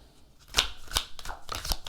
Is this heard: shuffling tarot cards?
yes